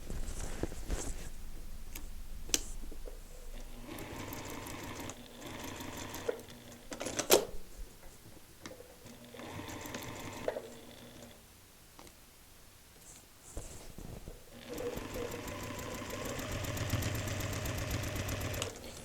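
A sewing machine stitches through several layers of a paper-pieced quilt, running in rhythmic bursts with short pauses, its steady mechanical chatter fairly quiet and close.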